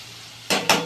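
Tadka tempering for dal hitting hot oil: two sudden loud sizzling bursts after a quiet kitchen pause, close and bright.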